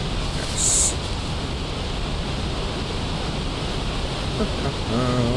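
Steady broadband rush of a waterfall in the Dark Souls video game, continuous and fairly loud throughout, with a brief high hiss early on and faint tonal game sounds near the end.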